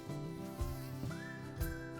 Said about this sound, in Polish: Bo mucha mi ucieka!